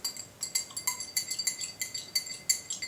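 A metal spoon stirs caffeine powder into water in a glass, clinking rapidly and steadily against the sides, close and fairly loud with no voices.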